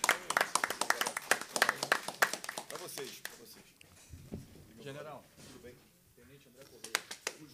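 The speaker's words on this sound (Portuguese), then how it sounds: "a o nosso querido deputado federal Pazuello, de uma salva de palmas." A burst of clapping from a crowd fades after a few seconds into someone speaking, with a few scattered claps returning near the end.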